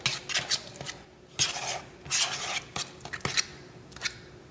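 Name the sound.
fork mixing egg yolks with mayo in a bowl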